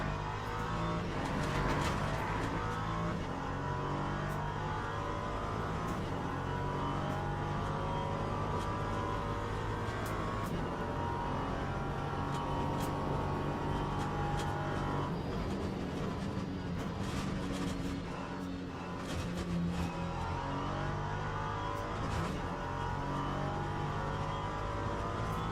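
An LMP3 prototype race car laps the Sebring circuit, its engine droning loud and steady throughout with shifting gear tones and brief lifts under braking, plus a faint passing rumble.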